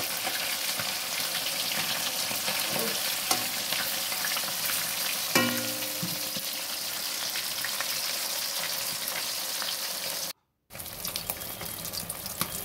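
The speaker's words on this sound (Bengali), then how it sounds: "আমি আবার যে কটা মাছ আছে সব ভেজে নেবো" Fish sizzles and spits steadily in hot oil in a frying pan, a continuous close crackle with a brief drop near the end.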